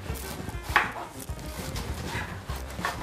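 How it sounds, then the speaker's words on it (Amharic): Knife chopping onions on a cutting board in a home kitchen, a few irregular sharp thuds and taps, fairly close, with faint background noise. "ትንሽ ከተፍኳቸው አለ ግን አሳያቸዋለሁ እንዴት መክተፍ እንዳለባችሁ"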